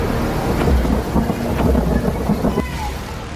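Heavy monsoon rain pours down in Kathua, Jammu and Kashmir, a dense steady wash of falling water with low thunder rumbling through it, loud and close.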